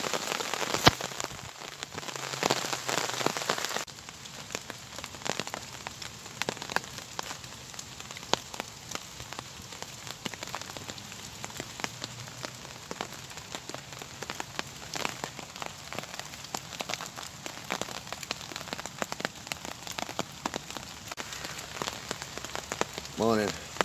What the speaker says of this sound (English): it just don't stop raining